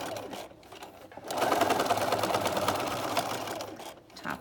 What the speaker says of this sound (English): Top stitch along it all the way to the end